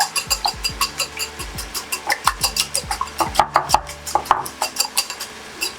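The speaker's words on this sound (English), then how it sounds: "Then you whisk it." Two eggs whisked for carbonara sauce, a fork or whisk clicking rapidly against a bowl in a steady, even rhythm of sharp taps, close and clear with no talking.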